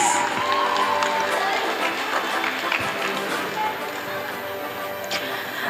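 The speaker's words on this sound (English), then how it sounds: "A round of applause, please" An awards-night crowd at a university film festival applauds and cheers, a loud, continuous roar of clapping and whoops that holds steady throughout, with voices mixed into the noise.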